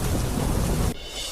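Torrential monsoon rain pours down in Sawai Madhopur, where markets are flooded; a dense, loud roar of rainfall fills the clip before dropping abruptly to a quieter hiss near the end.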